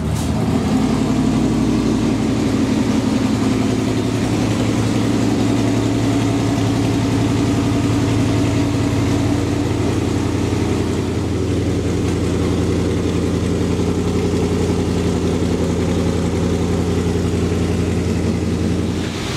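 Several car engines, including a restomod Porsche 928, idle together in a loud, continuous low rumble that holds steady throughout, with no voices.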